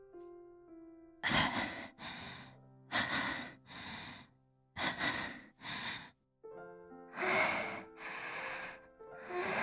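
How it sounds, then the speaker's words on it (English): Heavy, rhythmic panting from a Chaos;Child visual novel scene, loud, breathy gasps repeating in bursts with short pauses, over a quiet sustained tonal background. "The only sound in the dark room was their panting."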